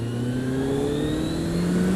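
A Kawasaki Z800 motorcycle engine revs up, a loud, steady engine tone climbing smoothly in pitch over two seconds, heard alone without talk.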